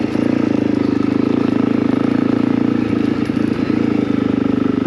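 A motorcycle engine labors steadily up a steep road, close and loud, holding a low throbbing drone with a constant pulsing beat and wind rush over it.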